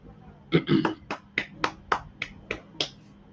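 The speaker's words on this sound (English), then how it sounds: "All right, clap it up." A run of about ten crisp hand claps, a quick cluster of three then evenly spaced single claps, close and loud against a quiet room.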